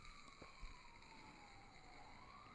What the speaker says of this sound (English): Random ambulance.